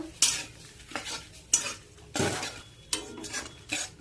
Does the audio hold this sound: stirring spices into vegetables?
yes